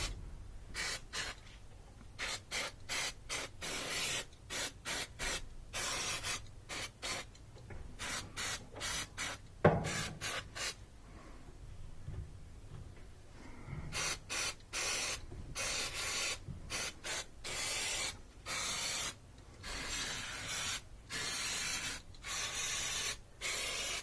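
Repeated short bursts of electrical contact cleaner spray hissing close by inside a Whirlpool dryer, some quick and rapid, others longer, with brief pauses and a faint knock midway.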